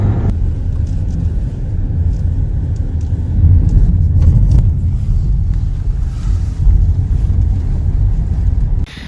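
A car drives away from the Latrigg car park in the Lake District in December, its engine and road noise a heavy, continuous low rumble close by. Wind buffets the microphone throughout.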